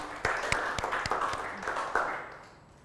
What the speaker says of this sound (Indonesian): beri tepuk tangan dulu buat kalian